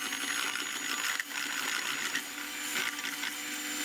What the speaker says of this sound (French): Donc, on va fouetter ça.